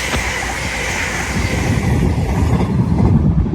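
A Class 801 train, unit 801 202, pulls away from Doncaster station with a steady broadband rumble of rolling stock and wheels that builds gradually, continuous and fairly close, with no voices.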